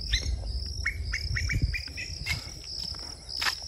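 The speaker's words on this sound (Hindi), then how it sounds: "ये कोयल है, कोयल" Asian koel calling from a roadside tree in a village, repeated short bright chirps over a constant high insect buzz, with other faint bird calls and no talk.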